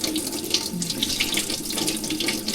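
Cold water pours steadily from a kitchen tap into a sink, a loud continuous splashing rush with no talk over it.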